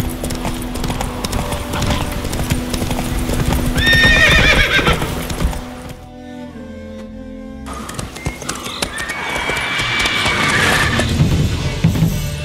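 Roach, the horse in the video game The Witcher 3, trots with rhythmic clip-clop hoofbeats and lets out loud whinnies, close up, with a brief quieter pause midway before the hooves resume.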